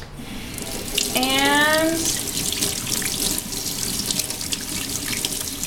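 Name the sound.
rinsing a paintbrush under running tap water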